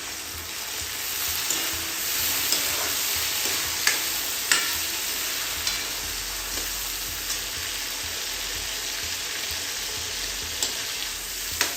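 Okra curry cooking in a pan as tomatoes go in, a steady close sizzle and hiss of frying with scattered clicks and scrapes of stirring, no voices.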